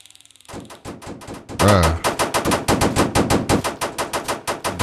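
Rapid automatic gunfire in a Roblox hood roleplay game, a loud burst of closely spaced shots that starts sparse and then keeps going as a steady rattling stream for several seconds.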